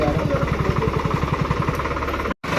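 A new tractor pulling a rotavator runs with a loud, close, steady chugging engine beat. A voice is briefly heard over it, and the sound cuts out for a moment near the end.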